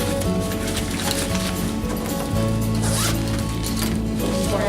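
The zipper of a zippered pouch inside a child's book bag is worked back and forth, giving a loud, close, continuous rasping with repeated pulls and no speech over it.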